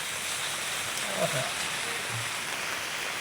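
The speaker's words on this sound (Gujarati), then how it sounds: "જોરદાર વરસાદ" Heavy, steady rain pours down outdoors as a broad, even hiss that fills the whole moment, close and constant with no clear breaks.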